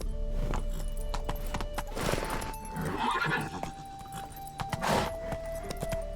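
In The Witcher 3, the horse Roach gallops with quick, rhythmic clip-clop hoofbeats and a whinny, close and loud against game background sound.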